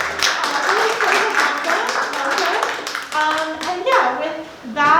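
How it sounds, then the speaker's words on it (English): A small audience claps for new coworkers at an indoor poetry event, a short scattered round of hand claps mixed with voices and some cheering, fairly close. "maybe a little round of applause for our new coworkers"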